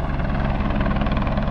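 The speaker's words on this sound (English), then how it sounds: "You've got an helicopter and he's picking stuff up from the work vehicle" A helicopter flies near a mountain worksite in the Pyrenees, lifting loads from a parked work vehicle up to the summit: a loud, close, steady rotor thrum with fast regular blade chop throughout, no talking.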